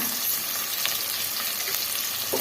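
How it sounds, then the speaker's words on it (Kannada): Curry leaves and asafoetida spluttering in hot oil for a moong dal sambar, a dense, even close-up sizzle with light stirring scrapes throughout and no talking. "ಎಲ್ಲ ಸೇರಿಸಿ ಫ್ರೈ ಮಾಡ್ಕೊಳ್ಳೋಣ"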